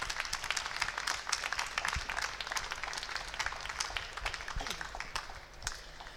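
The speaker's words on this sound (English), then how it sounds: "please join me again in a further round of applause for this student" Scattered, fairly light clapping comes from an audience at an architecture awards event, with individual claps distinct and the sound fading slightly toward the end.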